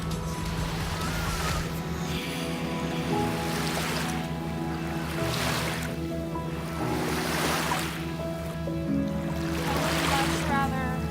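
Lake waves roll in at St. Joseph, Michigan, a steady wash of surf swelling and breaking every couple of seconds, with voices and a low rumble underneath.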